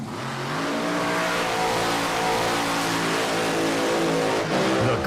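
A drag racing car accelerates hard down a quarter mile, its engine roaring loud and steady at high revs, close and constant with no talk over it.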